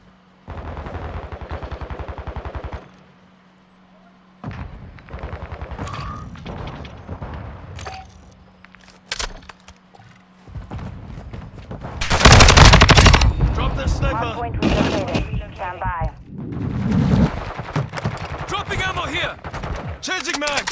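Rapid automatic gunfire from Call of Duty: Modern Warfare II multiplayer comes in loud bursts, with heavier booms and dense firing toward the middle and brief pauses between volleys.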